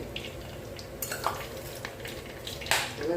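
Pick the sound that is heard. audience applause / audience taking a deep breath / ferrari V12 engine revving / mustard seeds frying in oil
mustard seeds frying in oil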